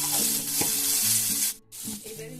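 Onions fry in a pan while being stirred during vegetable cooking: a steady close sizzle with repeated scraping stir strokes, briefly dipping before resuming.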